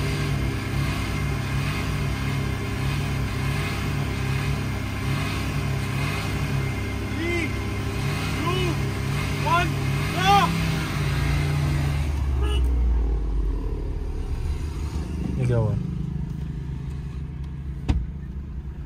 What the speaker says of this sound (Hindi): अब करते हैं भाई final round Brezza versus Nexon